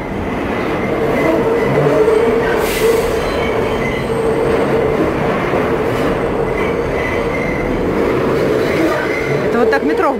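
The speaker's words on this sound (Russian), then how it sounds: "Это вот так метро в городе слышно." A New York subway train rumbles beneath the street at night, a loud steady roar of wheels on rail with faint squeals and clacks, while a voice talks over it.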